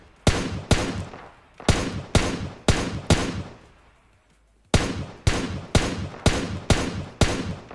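Gunfire in the mobile game PUBG Mobile: loud, sharp single shots fire in a quick, uneven rhythm, about five, then a brief pause, then about eight more, each ending in a short decaying tail.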